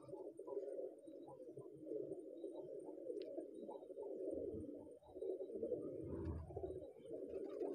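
A female teddy pigeon coos close by in repeated soft, throaty phrases that form a low, rolling call with brief gaps.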